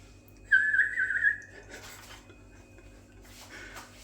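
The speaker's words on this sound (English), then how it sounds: "Let's stop and have a whistle." A person whistles a short, bright wavering tune for about a second close up, then it fades into quiet kitchen clinks and a faint later whistle-like trace over low hum.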